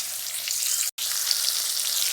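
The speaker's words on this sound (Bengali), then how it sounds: "এবার ইঁচড়গুলো ভেজে নেব।" Pieces of young jackfruit, seasoned with turmeric and salt, fry in hot oil with a dense, steady sizzle that drops out for an instant before continuing.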